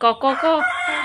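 A young child imitates a rooster's crow with a short, high voiced call, close and clear, in a village home.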